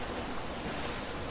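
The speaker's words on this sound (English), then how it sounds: "Another waterfall right here," Waterfall in the game Elder Scrolls Online, heard as a steady, dense rush of falling water, broadband and continuous without any break, fairly close and alone with no talk.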